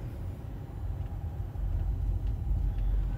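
A car creeps slowly along a road, its low engine rumble and tyre noise steady and fairly close, with no talking.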